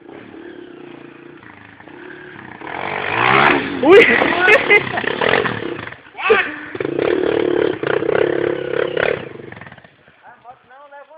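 Honda motocross motorcycle on a dirt trail, engine revving hard and rising in bursts as the rear wheel spins and slips, loud and close, with shouting voices over it and a brief clatter near the end.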